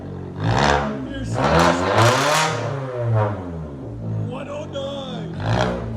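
A 2017 Fiat 500 fitted with a straight-pipe exhaust gives a series of loud, close revs that rise and fall in pitch, with a short pause between bursts and some talking mixed in.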